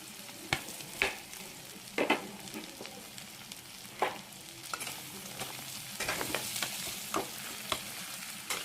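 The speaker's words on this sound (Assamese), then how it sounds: "এতিয়া ইয়াতে দি দিম পিঁয়াজখিনি।" Onions fry in a hot pan with ginger and garlic, sizzling steadily while a utensil stirs and scrapes in repeated clinking bursts, close and with no talk.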